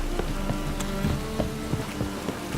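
Rain falls in The Witcher 3 as a steady hiss of drops on surfaces, with scattered sharper patters and a faint low background hum, no voices.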